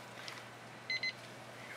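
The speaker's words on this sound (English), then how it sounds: "That's my timer. That tells me I've got 2 minutes left max." A painting timer beeps twice during an acrylic pour session, two short high electronic bleeps close together near the middle, over a quiet room hum.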